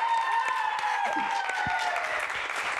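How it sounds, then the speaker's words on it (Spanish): Applause welcoming a guest on a podcast about friendship, a continuous light patter of clapping under a sustained tonal background, with brief vocal sounds mixed in. "¡Un aplauso, por favor!"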